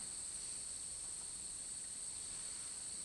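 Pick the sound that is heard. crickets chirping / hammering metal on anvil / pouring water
crickets chirping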